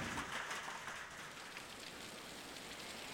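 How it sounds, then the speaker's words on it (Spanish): Heavy rain pours steadily during a thunderstorm in León, Spain, a dense, constant hiss of falling water on surfaces with no let-up and no voices. "En León ha llovido más de una hora con esta intensidad."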